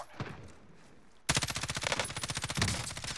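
Rapid automatic gunfire in an action video game, starting abruptly after a quieter second and hammering on in fast, loud, regular bursts to the end, with no talk.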